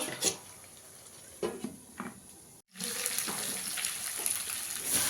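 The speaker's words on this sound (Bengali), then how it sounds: "অল্প করে একটু জল দিয়ে ঢাকা দিয়ে দেবো" Water is poured into a pot of cooking curry, with light clinks at first and then a steady splashing pour after a brief pause, heard close without talking.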